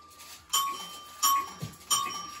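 An electric bell on a railway electric token system rings in three short, bright strikes spaced about two-thirds of a second apart, each decaying quickly in a quiet room.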